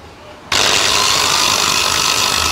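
A handheld electric grinder fitted with a speed controller switches on abruptly after a brief quiet moment, then runs at a loud, steady high-pitched whine with a broad hiss that holds unchanged to the end.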